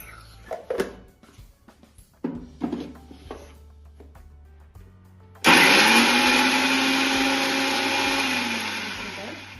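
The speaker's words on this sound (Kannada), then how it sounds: "ಇದರೊಳಗೆ ಹಸಿಮೆಣಸಿನಕಾಯಿ ನೈಸ್ ಮಾಡ್ಕೊಳ್ಳೋಣ." A kitchen mixer grinder whirs loudly as it grinds green chillies to a fine paste, starting abruptly after some quiet handling clatter and then running steadily, its pitch settling as the blades spin.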